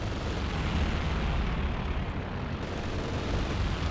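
An anti-tank strike explosion in Company of Heroes 2 is a sustained, heavy rumbling blast: dense, loud and continuous for the whole few seconds, with no pauses.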